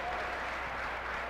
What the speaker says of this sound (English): We can really hear this place explode. This crowd's getting into it.